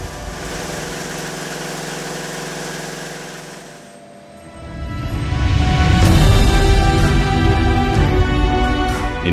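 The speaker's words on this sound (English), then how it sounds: "In IABG's Space Test Center, also Ariane Vulcan rocket engine tests were carried out." Ariane Vulcan rocket engine test at IABG's Space Test Center: a loud steady droning roar dips briefly, then surges back into a powerful broadband rumble that holds to the end.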